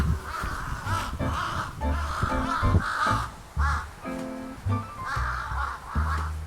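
Crows cawing at a Japanese mountain shrine, a run of harsh, repeated caws from several birds, fairly close and loud, overlapping in an irregular rhythm with no voices.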